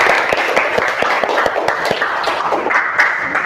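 A classroom of students applauding, a brief burst of dense, lively clapping that stays steady and close throughout.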